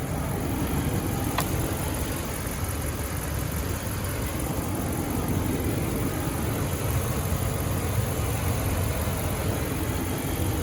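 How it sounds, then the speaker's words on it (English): A 2018 Ram 2500 SLT 4x4 pickup with a 5.7 liter HEMI V8 idles steadily and close, a constant low engine rumble with no talk. "And that HEMI is sounding good."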